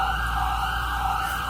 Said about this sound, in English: That's just a siren of a police officer.